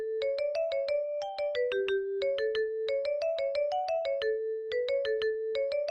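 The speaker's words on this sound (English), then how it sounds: "if you ever played a tune on the session.org, for example, and you played back the Black-Haired Lass" A computer playback of the Irish tune Black-Haired Lass from ABC notation software sounds as a clean, synthetic run of evenly plucked notes in a steady lilting rhythm, with no ornamentation and no voices.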